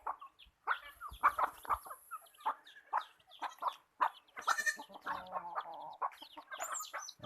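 Goats and chickens on a farm call back and forth, with a steady run of close clucks, crowing and bleats overlapping for several seconds.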